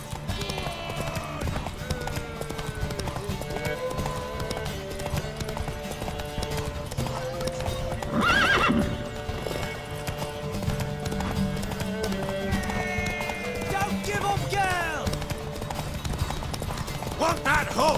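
Steady hoofbeats clop along under background music, with a short whinny midway and occasional speech mixed in, in The Witcher 3: Wild Hunt.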